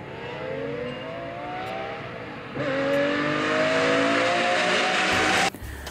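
A Lamborghini V12 breathing through BMW M5 headers wails in one loud, sustained pull. A steady tone rises in pitch for a few seconds before cutting off abruptly, with no voices over it.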